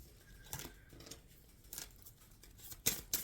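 Tarot cards are shuffled by hand in a quiet room, coming as soft papery riffles and flicks in irregular bursts, with a sharper snap near the end.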